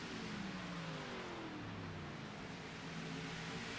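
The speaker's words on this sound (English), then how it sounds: "Just trying to listen to some of these cars." Race cars in a racing game circle the Kansas track, a continuous engine drone with rising and falling pitch as the cars run at a steady distance, with no talking.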